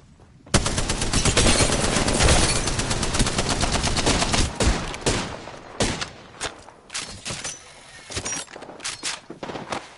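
Sustained automatic gunfire in a video game, a dense loud burst of rapid shots lasting several seconds, then breaking into shorter scattered bursts and single cracks that trail off, with no voices.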